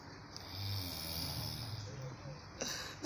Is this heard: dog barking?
no